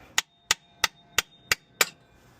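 Six sharp, evenly spaced metallic hammer blows strike a chisel driven around a rear wheel bearing on a 2000 Honda CR-V EX AWD, each crack ringing briefly, close and loud, with no talk.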